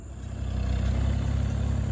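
An old Long 2460 tractor engine idles during hay raking, a steady low mid-range rumble that swells slightly at the start and then holds even and close, with no talk over it.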